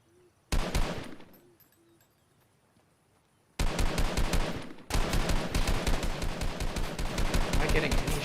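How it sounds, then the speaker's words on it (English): Rapid gunfire in the Fortnite video game comes in dense bursts, with a loud opening volley, a quieter pause, then sustained automatic fire to the end. "Who's doing the shooting?"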